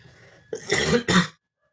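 Two harsh, raspy coughs in close succession, loud and near, with no talking around them.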